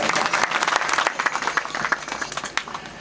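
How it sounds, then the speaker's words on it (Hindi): Audience applause at a Gondwana community gathering, a dense, loud burst of clapping that carries steadily for about three seconds with no speech over it. "तालियां बजाना पड़ेगा।"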